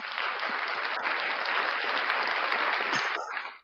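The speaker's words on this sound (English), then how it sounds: "Listen, I'm going to give myself another one" A man applauds himself, producing a dense, steady burst of clapping that holds evenly for about three and a half seconds before cutting off, with no talking.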